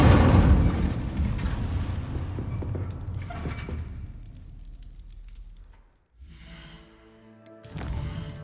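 Incendio fire spell in the Hogwarts Legacy game, a loud roaring burst of flame that fades over several seconds, then a brief quieter magical shimmer and a final sharp flare near the end.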